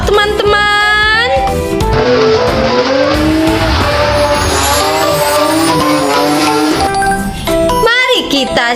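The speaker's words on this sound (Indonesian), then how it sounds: "Ada mobil balap, teman-teman." A toy race car plays loud, continuous electronic engine revving with rising and falling pitch and screeching tire skids, all close and dominating the sound, with a brief jingle near the end.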